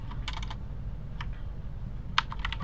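Typing on a computer keyboard while setting up a Unity database, a few quick clusters of soft key clicks with pauses between, fairly quiet over a low background hum.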